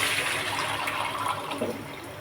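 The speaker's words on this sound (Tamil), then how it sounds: "இப்போ புளி தக்காளி கரைச்சி மசாலாவை ஊற்றிக்கலாம்" Tamarind and tomato liquid mixed with masala is poured into a pan for village-style pepper rasam, a continuous close watery pouring and splashing that stays fairly quiet.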